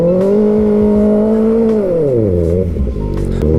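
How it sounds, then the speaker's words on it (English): A car doing a gravel burnout, its engine revving loudly and steadily close by, the pitch falling and dipping toward the end amid rough crunching and scattering noise. "Quick little gravel burnout?"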